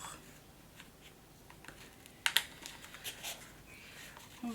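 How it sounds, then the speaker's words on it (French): Paper being creased along a fold for Japanese bookbinding, soft rubbing and a few sharp crisp scrapes and taps near the middle, close and quiet with no talking. "Je marque bien le pli et les bords."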